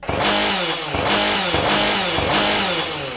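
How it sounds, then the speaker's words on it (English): A chainsaw in a roleplay video game buzzes loud and close, its engine pulsing in steady surges about every half second with no talk over it. "I've got a chainsaw, I don't know how to use it"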